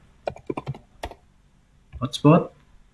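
Keys tapped on a computer keyboard while a wireless network is configured, a few quick close clicks in short bursts separated by quiet, alongside a speaking voice.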